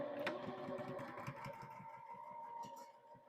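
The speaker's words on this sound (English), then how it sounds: "We are going to go at 1/4 of an inch and going to back stitch." A sewing machine back stitches a fabric gift bag at a quarter-inch seam, its needle pattering in a quick, even rhythm, fairly quiet and close, with no talk over it.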